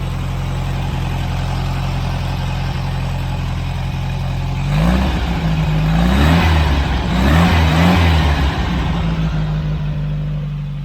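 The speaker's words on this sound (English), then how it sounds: "Let's check out this motor. It's so nice that it just idles." A rescued, long-abandoned VW Beetle's engine idles with a steady, even chug, then is revved in two quick surges mid-way before settling back to a smooth idle, close and with no talking.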